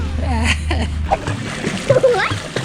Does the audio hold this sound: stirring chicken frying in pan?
no